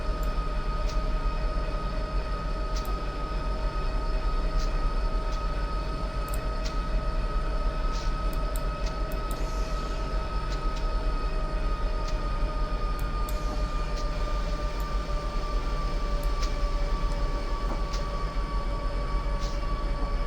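A train runs steadily in Train Simulator 2020 on the Daylight route over Donner Pass, climbing a long grade. A continuous rumble carries sustained tonal whines and faint clicks throughout, with no talking.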